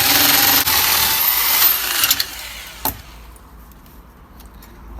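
A normal rotary drill, no hammer action, bores a 16 mm hole through a wall, whining loudly for about two seconds, then cuts out to a few clicks and a quiet room.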